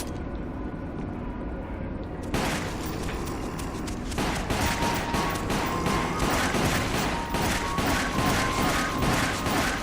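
Pistol gunfire in the video game Resident Evil: The Umbrella Chronicles, a rapid series of loud sharp shots mixed with dense game action and crashing noise, growing busier after the opening seconds.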